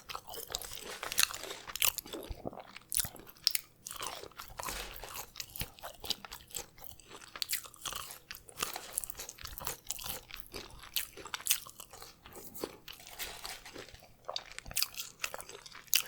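Crinkle-cut fries from a food court are chewed close to the mic, with steady crisp crunches and biting sounds over about sixteen seconds and no talking.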